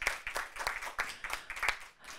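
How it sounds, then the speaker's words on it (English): Scattered clapping from a modest audience thanking conference panelists, uneven bursts of claps rising and falling over a couple of seconds, fairly quiet and thin rather than a full ovation. "Please give them a round of applause."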